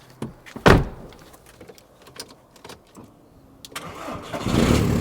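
A cheap used car needing work to pass its MOT is started: a thump, then a short bout of cranking before the engine catches and settles into a throaty, rising rumble, close by with no talk.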